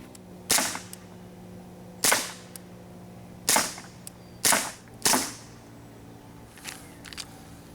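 A KWA 1911 Mark IV airsoft pistol fires five sharp, snappy single shots at uneven intervals, close and crisp, followed by a couple of faint clicks.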